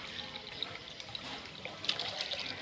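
Hot water poured into a pigeon cage, heard as a steady close splashing hiss that runs unbroken for a few seconds with no voices.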